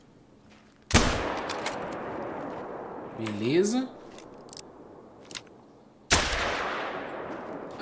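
Two sharp .243 rifle shots in the hunting game The Hunter: Call of the Wild, each a loud crack with a long decaying echo, spaced about five seconds apart, with someone speaking briefly between them.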